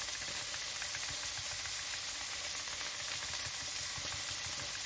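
Onion and ginger sizzle steadily in a pan over low heat, a dense, even hiss that holds close and constant with no talking.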